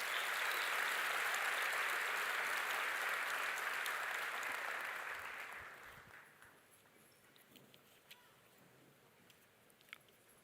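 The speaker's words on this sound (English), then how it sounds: "Let us give them another round of applause while they leave the stage." Steady, dense applause from a large audience at a university graduation ceremony fills the first half, then fades out around six seconds, leaving a quiet room with a few scattered claps.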